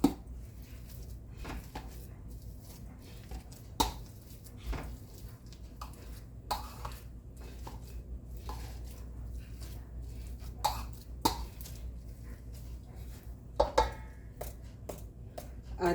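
Boiled potatoes being mashed and pressed with a peeler for patties, scattered soft squishing thuds and taps at irregular intervals over a quiet background.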